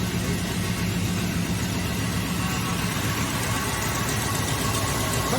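An AMC Matador car engine idling at close range, a steady low rumble and hiss that holds even throughout with no talking.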